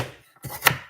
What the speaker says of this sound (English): I'm going to cut those bigger pieces in half